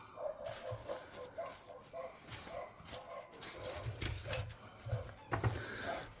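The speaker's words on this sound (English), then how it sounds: "it's quite warm, hence the dogs barking" Dogs bark outside on a warm day, heard faintly through an open window of an indoor workshop, with scattered, intermittent yaps at a distance and a few sharp clicks nearby.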